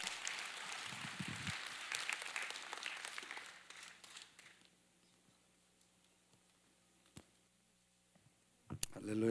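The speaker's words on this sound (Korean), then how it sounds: "뜨거운 박수로 목사님 맞이하겠습니다." A church congregation on a Friday night gives applause that lasts about four seconds and then dies away into near silence, followed by a few scattered clicks and a brief noise at the end.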